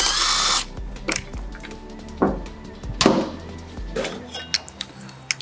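Power tool spinning off a 12mm caliper bolt on the rear wheel of a CSC RX1E electric motorcycle, a short loud whir followed by several brief bursts and metallic clinks of tools, up close.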